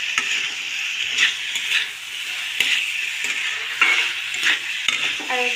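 Drumsticks being stirred through mustard paste in a pan, with a steady frying sizzle and repeated scraping and clinking strokes of a utensil against the pan.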